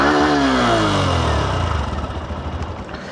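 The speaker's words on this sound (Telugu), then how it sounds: "రెవ్ చేస్తే ఆ స్ప్రింట్ టీబీటీ ఇంజిన్ దాని ఒక స్పోర్టీ నేచర్" A Hero Glamour X 125 motorcycle with a Sprint EBT engine revs up loudly nearby, the pitch climbing, then settles back to a lumpy, pulsing idle.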